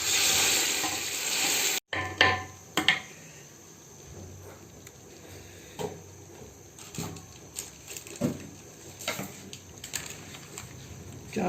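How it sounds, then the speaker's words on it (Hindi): Onions browning in hot oil for a tadka with a soft, steady sizzle, broken by occasional scraping stirs and light clinks of a spoon against the pan. "प्याज को ब्राउन करते हैं पहले"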